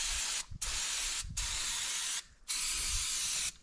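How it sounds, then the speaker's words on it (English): Brake cleaner sprays in four bursts onto the motor mounts of a K100 Kenworth truck, each a loud close hiss separated by brief pauses. "So I was just going to spray these down with brake clean"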